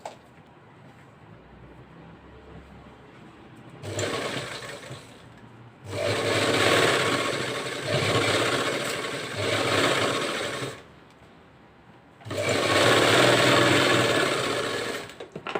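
A sewing machine stitches a shape belt onto a collar-neck blouse in three bursts of rapid, close mechanical whirring, with quiet pauses between runs.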